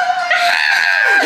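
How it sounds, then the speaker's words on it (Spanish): Sudden screaming at a Mazatlán, Mexico travel stop: a loud, sustained high-pitched shriek or squeal that fills the short moment with no talk. "De repente, gritos."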